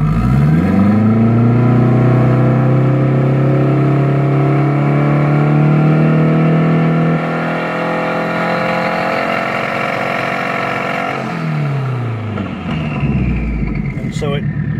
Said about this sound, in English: then I'll go through the rev limit real slow